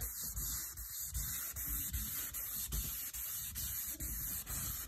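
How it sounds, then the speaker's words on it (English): Steady rhythmic rubbing of a flexible sanding block on a wet Corvette hood, strokes repeating back and forth at an even pace, close and fairly quiet. "we have a flexible sanding block because of the curves"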